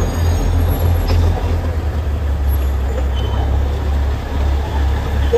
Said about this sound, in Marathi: ट्रेन जाते।